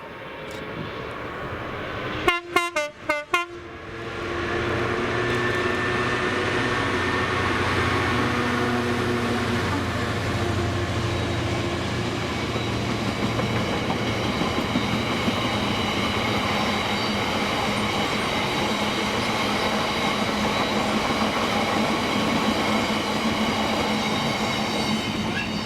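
Freight train headed by locomotive 66789 on the Mossend to Carlisle run in Scotland, a few sharp knocks then a long, loud, steady diesel engine roar and rumbling wagons passing close by.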